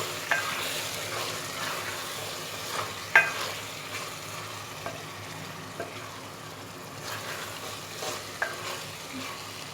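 Cabbage and meat for band gobhi gosht being fried and stirred in a pan, a steady close sizzle with scraping spoon strokes and occasional sharper clanks, no voices.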